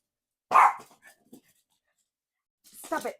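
Dogs indoors bark at a delivery driver: one loud nearby bark, then silence, then a second burst of barking at the end.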